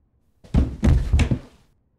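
A person faints and falls to the floor indoors, producing a short cluster of dull heavy thuds and bumps over about a second, close and fairly loud, then silence.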